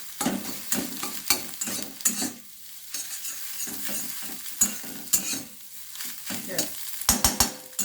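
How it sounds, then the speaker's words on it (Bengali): An egg fries in a pan with a gentle sizzle, broken by frequent sharp scrapes and taps of a spatula stirring in irregular bursts close to the mic. "আবার ডিমটা কিন্তু কাঁচাও থাকবে না, সেইভাবেই কিন্তু ডিমটাকে ভেজে নিতে হবে।"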